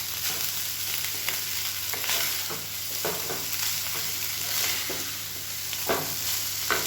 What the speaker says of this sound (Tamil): அப்படியே மெதுவாக கிளறி வச்சுக்கலாம். சாதம் உடையாத அளவுக்கு கிளறி வச்சுக்கணும்.